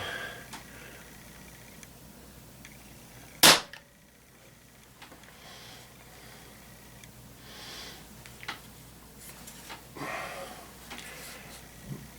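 A Beeman P-17 .177 caliber pellet pistol fires a single sharp, snappy shot, with quiet room background and faint handling noises before and after.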